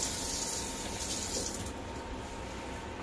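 Tap water runs in a steady, soft hiss to wet a cheap paintbrush for drywall patching, quieting slightly partway through.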